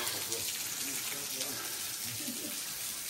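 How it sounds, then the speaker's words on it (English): Water from a waterfall rushes and gushes steadily, heard from close by behind the falls, with a constant splashing flow and faint voice-like murmurs mixed into the roar. "I'm on the back side of the waterfall"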